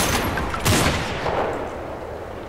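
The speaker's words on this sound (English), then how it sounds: "And they will fire into the building." Dense video-game gunfire pours into a building as a sustained barrage of overlapping shots and bursts, loud and continuous with a heavier surge partway through.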